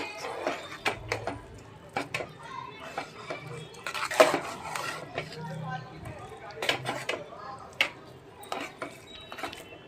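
A spatula stirs coriander vadi batter in a pan over low heat, giving repeated close scraping and clinking against the metal in irregular bursts, with occasional talk in the background.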